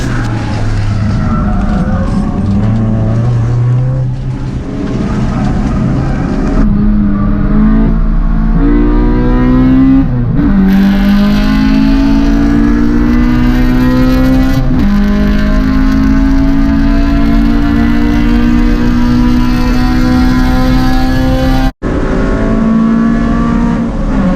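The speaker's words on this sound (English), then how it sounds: "Then out of nowhere, Thomas and his RX-8 come flying past Troy right before turn 13 with fireballs coming out his exhaust." Loud, close engine roar with rising revs and gear shifts, a Mazda RX-8 race car accelerating hard and screaming past on track, continuous over the whole stretch.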